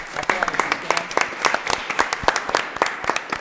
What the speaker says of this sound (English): we want to give you an applause